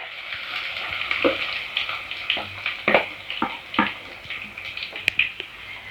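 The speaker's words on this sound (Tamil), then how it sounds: "நம்ம எடுத்து வச்ச வெங்காயத்தை சேர்த்துப்போம்" Finely chopped onions with green chillies and curry leaves fry in a pan for an egg gravy, giving a soft continuous sizzle broken by repeated scraping stirs of a spoon at a close, moderate level.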